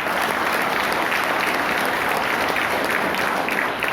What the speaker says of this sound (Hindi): एक बार जबरदस्त ताली हो जाए।